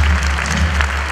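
A theatre audience breaks into a brief, dense burst of clapping for actress Julieta Babayan, a close, even wash of applause with no voice on top.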